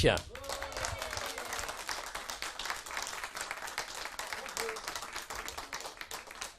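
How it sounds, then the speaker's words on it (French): A studio audience at a radio show claps for an arriving guest, a crisp, even patter of many hands that continues throughout, with a voice speaking over it at the start. "Je vous demande d'applaudir notre invité, Yves Jamais"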